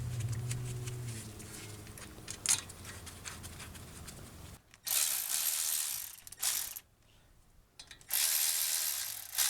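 Slide pin bolts on the front brake caliper of a 2015 Dodge Ram 1500 being threaded in by hand, giving close, quiet ratcheting and clicking bursts with short pauses between turns.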